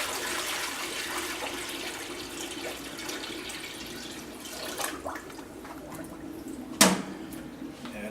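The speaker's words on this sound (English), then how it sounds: "You can go ahead and pour it in." Sanitized water pours and splashes steadily into the hopper of a soft-serve machine, followed by a sharp clunk near the end.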